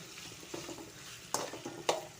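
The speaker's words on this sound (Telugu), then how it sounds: "ఇంకా ఉడుకుతూనే ఉన్నాయి ఫ్రెండ్స్" Ivy gourd curry fries in a pan with a soft, low sizzle, broken by a few sharp scrapes and clinks as a utensil stirs against the metal.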